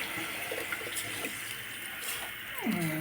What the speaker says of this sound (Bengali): এখন কিন্তু আমি আমার এটা একটু জলটা দিয়ে দেবো